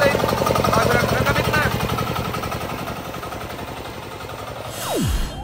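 A newly bought diesel engine runs with a steady, close, rattling chug that holds for several seconds, then a falling whine as it winds down at the end.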